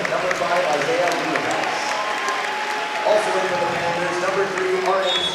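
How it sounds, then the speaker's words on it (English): A crowd at a Tigerton versus Reedsville boys high school basketball sectional final cheers and applauds for the Tigers, a steady loud roar filling the gym with a commentator talking over it. "Teresa cheering for the Tigers, it looks like"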